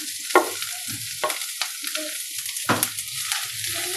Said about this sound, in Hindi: हल्का हल्का फ्राई करेंगे और बीच बीच में चलाते भी रहेंगे।